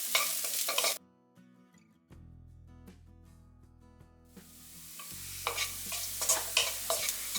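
Masala with turmeric and chili powder is sautéed in a pan for egg chutney rice. Close sizzling and stirring fill the start and end, with a quieter stretch between them where sustained tones sound.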